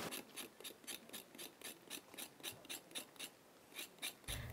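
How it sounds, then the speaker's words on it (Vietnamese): A spoon scrapes bark off a round tamarind tree trunk for a Hà Nhì salad, giving rhythmic rasping strokes about three per second, close and steady with no talk. "Thân cây me tròn được cạo lấy vỏ để làm gỏi."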